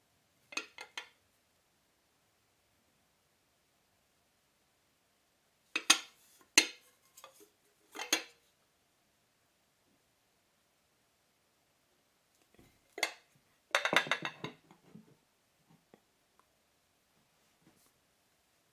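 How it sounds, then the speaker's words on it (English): A glossy Le Creuset glazed stoneware butter dish in Coastal Blue is handled in a quiet room, giving a few separate bursts of light ceramic clinks and knocks with long silent gaps between them. "this nice glossy glazed stoneware butter dish from Le Creuset"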